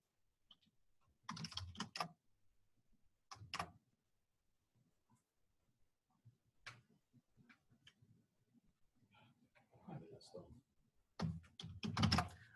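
A short command is typed on a computer keyboard in a quiet room. Soft, quick key clicks come in small bursts with pauses, close by and clear, with no speech over them.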